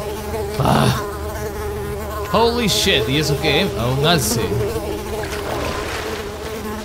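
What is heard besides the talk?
mosquitoes buzzing in video game Unravel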